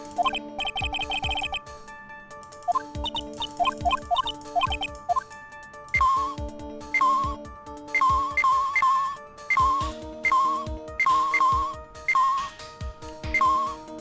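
An electronic phone ringtone in the Ace Attorney Justice For All video game trills in repeated bursts, a bright looping melodic chirp that keeps cycling for many seconds with no voices.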